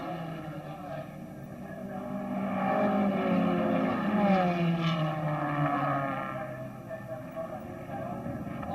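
1963 Formula One race cars at the Australian Grand Prix, engines droning and shifting pitch as they pass, rising to a peak midway and fading slightly, with a commentator talking over the racing.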